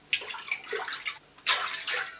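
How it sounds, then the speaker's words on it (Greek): Water pours into a saucepan as the base for an orange or lemon syrup for semolina halva, a close splashing rush in two bursts with a brief pause between. "Σε μια κατσαρόλα θα ρίξουμε το νερό."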